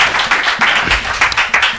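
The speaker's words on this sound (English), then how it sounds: "A round of applause one more time as he sits." An audience at an interview event gives a short round of applause as the guest sits down, close and loud, with uneven clusters of claps.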